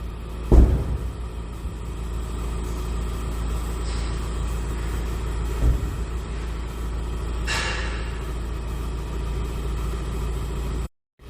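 Tipper body of a 2023 Ford Transit 350 Leader tipper, 2.0 EcoBlue diesel, being lowered, a steady low hydraulic pump hum and idling engine rumble with a few knocks and a hiss before it stops abruptly.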